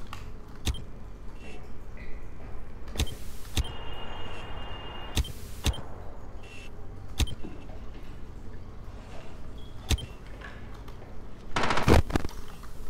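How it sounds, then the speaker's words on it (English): A gunshot hitting a camera in a video game: sharp, loud cracks stand out at intervals over a quiet background hum, with a denser crackling burst near the end. "Ash downstairs just shot the camera"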